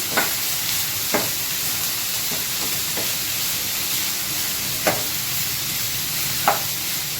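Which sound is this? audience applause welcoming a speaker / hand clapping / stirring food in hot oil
stirring food in hot oil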